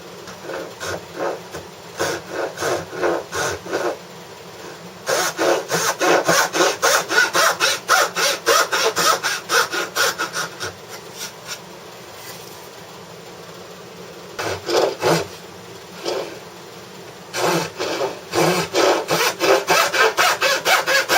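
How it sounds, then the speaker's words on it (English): A dovetail saw cuts along marked lines in wood with loud close rasping strokes in rhythmic bursts, separated by short pauses. "Dovetail saw along the lines"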